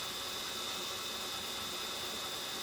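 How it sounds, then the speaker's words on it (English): A constant, even mechanical whir of a slow-running electric home drill during a 1982 Harley FLH speedometer repair, steady and unbroken throughout, with no talking. "so now we have, obviously, the drill going"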